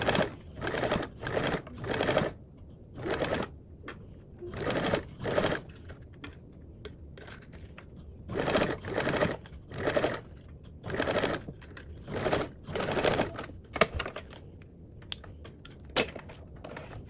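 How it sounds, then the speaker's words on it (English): A sewing machine stitches a seam on a mini Drac Pack bag in short, rapid bursts of mechanical whirring separated by brief pauses, close and moderately loud with occasional small clicks. "Now I'm gonna sew this together."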